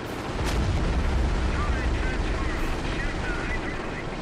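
A V rocket strike detonating in the World War II strategy game Company of Heroes with the Blitzkrieg mod: a loud, sustained rumbling roar of blast and debris that fills the whole clip.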